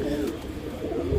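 A pigeon coos softly and close by in a brief low murmur, with a faint rainy outdoor background.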